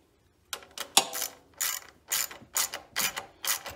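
A ratchet wrench tightens bolts on a Champion 9000 watt generator, with several quick bursts of sharp clicking close by, separated by short pauses.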